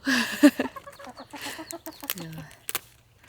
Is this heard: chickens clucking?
yes